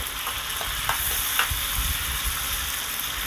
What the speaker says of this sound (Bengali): ঢাকা চাপাটা খুলেছি এবার একটু আর একটু ভালো করে নেড়ে দিলাম